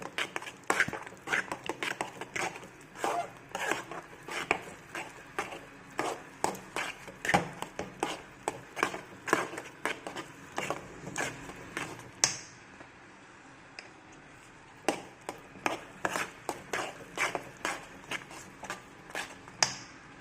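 A meal maker and broad bean curry is stirred in a pan, the spoon making repeated light clicks and scrapes in an uneven rhythm, close and fairly quiet, with a short pause partway through.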